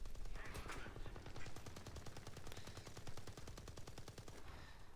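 Rapid, steady burst of tank machine-gun fire in a game featuring Soviet heavy tanks, loud and continuous for several seconds with a dense rattling rhythm.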